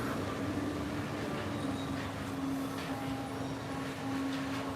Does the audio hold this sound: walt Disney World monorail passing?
yes